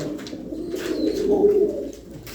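Pakistani high flyer pigeons cooing up close, a low throaty rolling coo swelling and fading over a couple of seconds, with no talking.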